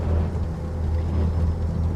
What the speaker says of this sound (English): I don't really like the sound on this truck too much though.